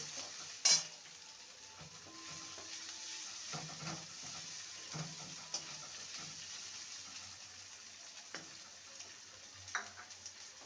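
Chopped onion frying in a pan for a taro root and lentil dish, a steady soft sizzle under occasional stirring scrapes and a sharp clatter near the start, no voices.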